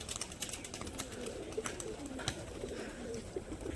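Pigeons, a paired male and female, cooing softly up close in a continuous low murmur of repeated coos, with faint background rustle.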